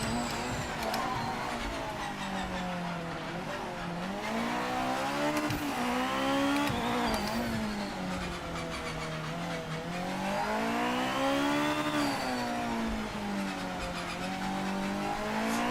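A GT500 race car engine in Project Motor Racing roars continuously, its pitch climbing and dropping through gear changes, loud and close with faint tire noise, no talking.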